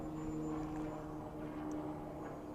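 Propeller of an E-Flite 1.2m Decathlon RC airplane during a snap roll, a steady buzzing drone heard from a distance, faint and even throughout without talk.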